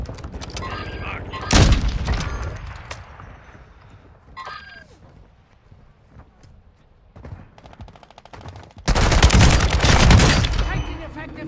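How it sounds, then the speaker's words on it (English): Gunfire in Call of Duty Resurgence: a loud burst of shots early on, quieter scattered game sounds in between, then a long, heavy barrage of rapid fire near the end, with voices heard between the bursts. "Taking effective fire."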